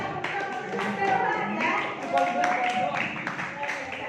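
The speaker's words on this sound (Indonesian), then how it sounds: "Tepuk tangan." Hands clapping in a classroom during a guidance lesson, a steady patter of many claps over a room of voices and chatter, moderately distant.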